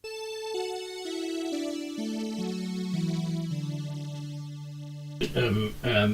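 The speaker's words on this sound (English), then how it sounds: "Quickly on the bottom manual, we have a 4 foot, sorry, an 8 foot stop here." Organ playing an 8 foot stop on the bottom manual, a clear sustained melodic line of steady tones stepping downward, followed at the end by someone speaking.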